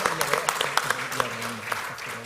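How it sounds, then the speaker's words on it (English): Brief, moderate applause at a city economy conference, scattered sharp claps over a soft patter, with a person's voice speaking beneath it. "So can we just give a round of applause, Susan?"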